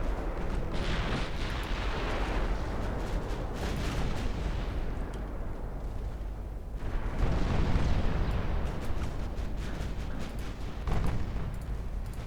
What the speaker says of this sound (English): Let's do one more salvo